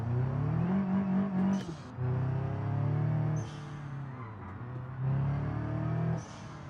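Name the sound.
car turbo engine revving in video game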